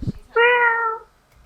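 A pet cat lets out a single clear, drawn-out meow close by, lasting well over half a second, after a faint rustle, then quiet.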